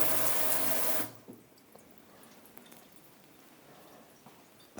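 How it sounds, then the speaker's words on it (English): Tap water running in a house after the Malibu fire, a loud steady broadband rush for about a second, then cut off, leaving only faint room noise. "The water's on."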